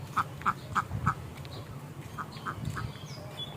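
Ducks quack near a village pond in rural Bengal, a quick series of four nasal calls followed by a few more scattered quacks at moderate distance over light outdoor background noise.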